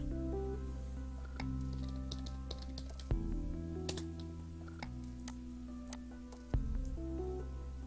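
Light, irregular key clicks from text being typed on a computer keyboard while building a WordPress website, scattered over a steady low hum with no talk.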